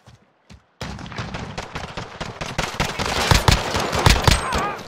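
Rapid automatic gunfire in Call of Duty Modern Warfare, a burst of sharp repeated shots that begins after a few isolated bangs and keeps up loud and close, with a faint voice beneath.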